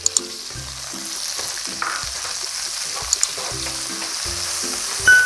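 Garlic, sausage and shimeji mushrooms stir-fried together in a pan for a dried-chili pasta, a steady low sizzle with occasional scrape and clink of the utensil, close and alone.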